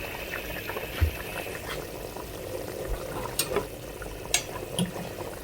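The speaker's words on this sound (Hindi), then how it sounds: "बॉयल आ चुका है।" Water boils in a pot for chana pulao with a steady bubbling simmer, close by, broken by occasional louder pops and small splashes.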